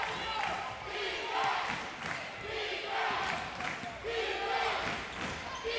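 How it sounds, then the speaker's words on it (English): A crowd at a women's college basketball game in the Schaefer Center chanting "defense" in a loud rhythmic, repeated cadence, with ball bounces on the court and a commentator talking over it. "The crowd coming alive with chants of defense here in the Schaefer Center."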